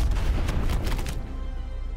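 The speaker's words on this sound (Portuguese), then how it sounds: "A máquina de guerra tem um grande raio de explosão." War Machine grenade launcher in Call of Duty Black Ops 4 firing a rapid string of loud, booming explosions that crowd the first second, then fade into a rumbling tail.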